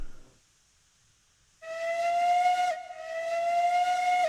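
A steam train whistle in the railroad video game Railroads Online sounds in two sustained, loud blasts with a short break between them. It follows a near-silent moment, and there is no talking over it.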